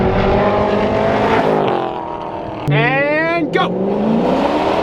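Straight-piped Ford GT on Goodyear tires revving hard and accelerating, engine pitch sweeping upward through gears, loud and close, with a voice speaking over the roar.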